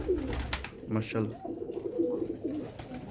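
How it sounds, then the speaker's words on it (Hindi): Pigeons in a breeder's loft coo in repeated soft, low throaty phrases close by, while someone talks over them. "ए साधना कबूतर है"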